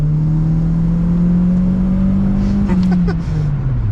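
A turbocharged Toyota Corolla accelerating hard from inside the car, its engine droning loud and rising steadily in pitch, then easing off with a brief whir as the revs drop.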